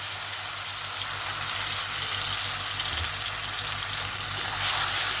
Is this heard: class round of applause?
no